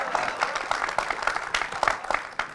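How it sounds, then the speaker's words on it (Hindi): Audience applause at a Jagran Film Festival conversation session with actor Piyush Mishra, heard as scattered clapping bursts with a low crowd murmur and voices underneath. "इसलिए तालियां भी मिल रही हैं।"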